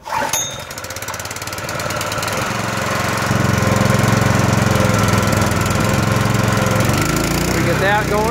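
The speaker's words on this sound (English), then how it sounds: "And then this motor here runs the auger." Small engine that drives the auger on a seed planter at the field, cranked and starting after a short burst, then running at a steady loud chugging drone that builds slightly before settling.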